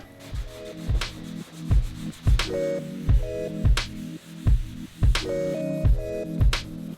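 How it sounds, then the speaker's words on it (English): A car roof on a Honda NSX is sanded by hand with 600 grit sandpaper, giving rhythmic back-and-forth rasping strokes, roughly two per second, close and steady with no voices. "refined the sand scratch down to a 600 grit"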